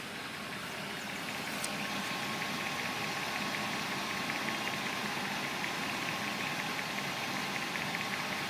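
A 1995 BMW E34 540i idles roughly after sitting for over a year, a steady mid-pitched engine drone with a slight lumpy unevenness, heard close and continuous with no talking.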